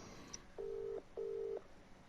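Two evenly spaced ringback tones of a mobile phone call sound alone, each a steady electronic burst lasting about half a second, faint and clean over low line hiss.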